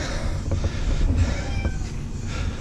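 Domestic cat meowing indoors in a house, a couple of short calls at moderate loudness over a busy background of room noise.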